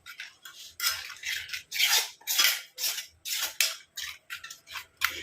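Henna leaf hair paste is stirred in a bowl, giving a string of scraping, clinking strokes close up in an uneven rhythm with short gaps between them.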